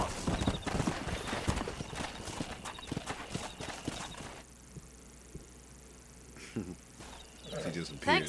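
Horse hooves clip-clopping in Red Dead Redemption, a quick, steady rhythm of close hoofbeats for about four seconds, then quieter game ambience with a brief whinny-like sound near the end.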